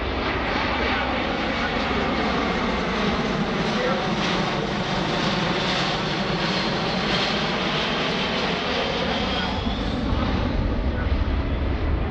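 A C-17 Globemaster III military transport jet flies past during an air show demonstration at EAA AirVenture 2018, a continuous loud broadband engine roar that holds steady and close throughout, with a commentator's voice faintly under it.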